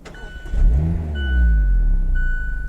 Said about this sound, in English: push the clutch pedal down, push the start button, lights up green, push it